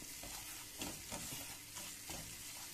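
Green beans frying in a pan give a quiet, steady sizzle broken by soft stirring clatters roughly every half second, heard close with no voices.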